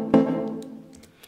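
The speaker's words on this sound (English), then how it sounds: "Look under wood, and I found this one called Wooden Bells" A single struck note from the Logic Pro Wooden Bells mallet instrument, set between solid and muted, with a sharp attack and a tone that decays slowly and rings out alone.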